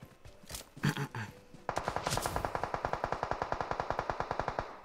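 Rapid automatic gunfire in a shooter video game, a sustained burst of evenly spaced shots that runs for several seconds after a short scatter of earlier, irregular shots.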